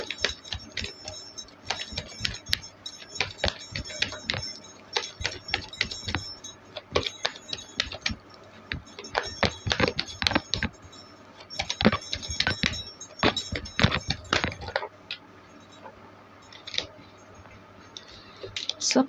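Tarot cards being shuffled by hand in quick bursts of crisp riffling and flicking, separated by short pauses, close and fairly loud, with occasional soft talk.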